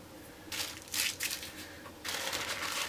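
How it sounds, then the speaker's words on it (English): Tissue paper from a scrapbook kit crinkles and crumples in several short bursts, close and fairly quiet, alone with no talk. "that's just the tissue paper that did come in my hip kit"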